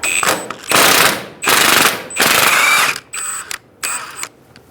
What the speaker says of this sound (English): you're going to use a 14mm socket to undo the ball joint bolt